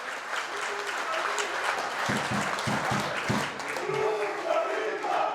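Football fans at the city stadium in Ptuj applaud and cheer their team after a third-division match, a dense, distant crowd roar with scattered claps running throughout, mixed with voices and a commentator speaking over it.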